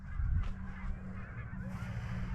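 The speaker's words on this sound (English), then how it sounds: "You look at all the ducks." A flock of waterfowl honks and calls continuously from an island, a dense chorus of overlapping goose-like cries with low rumbling in the background and no clear single voice standing out.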